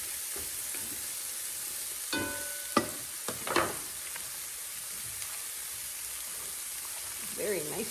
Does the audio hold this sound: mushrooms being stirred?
yes